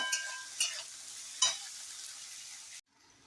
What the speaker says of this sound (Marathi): हाय फ्लेमवर भाज्या चांगल्या तेलात परतून घेतलेल्या आहे.